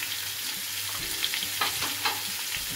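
Raw mango chutney seasoned with red chili powder fries in a pan, a close sizzle with a few sharp stirring scrapes and clacks over under three seconds, without speech.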